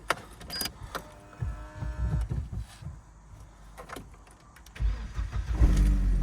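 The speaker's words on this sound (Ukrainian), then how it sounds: "заводиться гарно, оберти не плавають" A 1.8 petrol Opel Zafira starting up, with clicks and a brief crank before the engine catches and settles into a steady, rising idle rumble close by, no talk.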